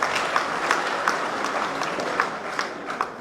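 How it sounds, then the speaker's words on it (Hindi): A crowd claps loudly at an Aam Aadmi Party swearing-in gathering, continuous dense applause with a few sharper claps standing out. "मैं चाहता हूं एक बार जोरदार ताली बनाकर विजय।"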